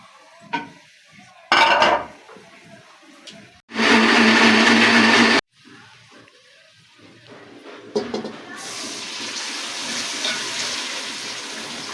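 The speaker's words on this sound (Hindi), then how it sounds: "प्याज को हमने ग्राइंड करना है, इसीलिए हमने लहसुन अदरक को ऐसे ही ऐड कर दिया है।" An electric kitchen grinder blends onion with garlic and ginger in short loud bursts separated by pauses, followed by a steady, softer whirring hum.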